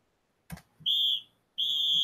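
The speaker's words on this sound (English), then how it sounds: "There's the whistle. Now it's halftime." A thud, then two long, shrill referee whistle blasts signalling halftime, each about half a second or more, loud and close, separated by a brief pause.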